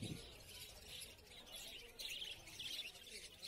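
Budgerigars for sale in a bird shop chirp and twitter in soft, scattered bursts, with the flock sounding faint and fairly distant throughout.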